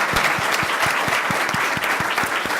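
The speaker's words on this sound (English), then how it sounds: "Please join me for one more round of applause for both of our speakers." An audience applauds two speakers after a newsroom culture talk, a full, sustained round of clapping with a few closer, sharper hand claps standing out, and no talk over it.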